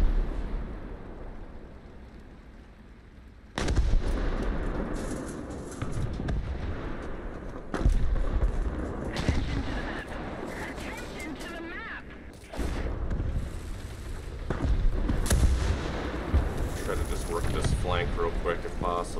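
Tank cannon fire in War Thunder with a Panther II: heavy booming blasts land several seconds apart over a rumbling battlefield, each sharp thump followed by a rolling decay, while a voice talks at times.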